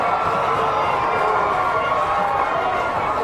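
Stadium crowd roaring at a rugby league try in the 2018 Emerging Nations grand final, Malta versus Niue, a dense sustained cheer filling the whole stretch under a commentator's voice.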